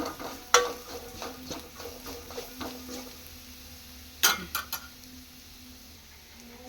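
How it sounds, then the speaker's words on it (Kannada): Curry leaf rice (chitranna) with ground curry leaf paste being fried and stirred in a pan, giving soft scraping and spoon clinks on cookware, with a cluster of sharper metallic taps near the end, close up. "ಇನ್ನೇನು ಜಾಸ್ತಿ ಹೊತ್ತು ಫ್ರೈ ಮಾಡೋದು ಬೇಡ ಇದು."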